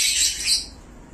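A one-day-old chick just hatched from its shell in a person's hand gives soft, high chirps close by, two brief bursts with no talk.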